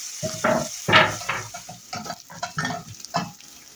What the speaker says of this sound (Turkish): Yağımız ısındı. Evet. Soğanımızı attık. Bu soğanımız yavaş yavaş kavrulacak.